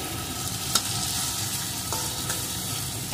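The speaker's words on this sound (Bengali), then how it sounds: "এখন ভেন্ডিগুলো আমি সুন্দর করে ভেজে নেব" Okra fries in mustard oil in a pan, a constant close sizzling hiss with stirring and a few distinct clicks of a utensil against the pan.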